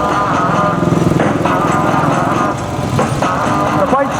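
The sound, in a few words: temperamental old motorcycle engine starting at steam rally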